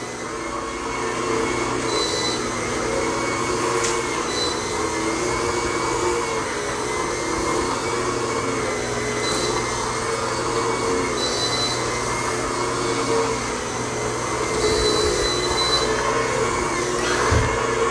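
A Bissell Spinwave floor cleaner runs with a steady, loud motor whir and spinning-pad hum throughout, broken by a few faint high clicks or squeaks.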